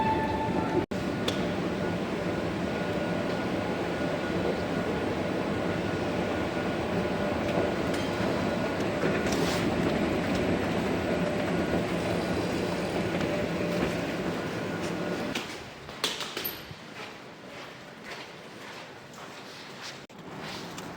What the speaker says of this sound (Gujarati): અમે ટ્રેનમાં આવ્યા છે ગાડીમાં નથી આવ્યા